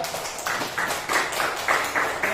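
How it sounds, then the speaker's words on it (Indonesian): A classroom group applauds students from group 3, clapping in a fairly even, rhythmic beat of repeated bursts that stays moderately loud throughout. "beri tepuk tangan untuk kelompok 3"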